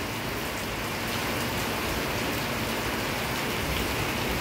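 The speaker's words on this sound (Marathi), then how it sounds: "पाऊस किती मोठ्या प्रमाणात या ठिकाणी सुरू आहे।" Unseasonal downpour in Deglur town, a thick unbroken roar of falling rain close by, steady and loud throughout with no speech.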